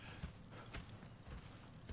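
Horse hooves clip-clopping steadily on the ground in the Red Dead Redemption 2 video game, a quiet, continuous rhythmic trot with faint ambient background.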